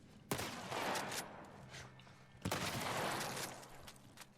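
Two sharp gunshots in the video game The Last of Us Part 1, each a loud crack followed by a rattling, debris-like tail, spaced about two seconds apart.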